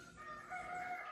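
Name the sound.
roosters crowing and hens in the morning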